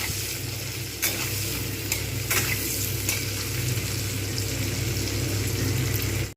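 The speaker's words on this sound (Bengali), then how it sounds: "এবারে দিয়ে দেবো পেঁয়াজ পেঁয়াজটাকে একদম পুরো ভালো করে লাল করে ভেজে নেবো" Onions frying in oil with whole garam masala make a constant close sizzle over a low steady hum, with a few sharp scrapes of stirring in the first half.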